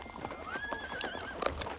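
Horses whinny in a loud rising-and-falling neigh over irregular clopping hooves and background bustle in a dramatized Mexican frontier scene.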